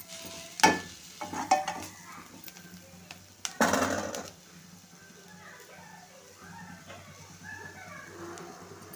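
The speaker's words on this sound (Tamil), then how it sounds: "உப்பு போட்டு நல்லா கிண்டி விட்டுக்கிருவோம் வெங்காயம் நல்லா வேகட்டும்" Onions with salt stirred and frying in a pan, a soft steady sizzle with a few sharp utensil scrapes and clinks early on, a voice speaking over the cooking.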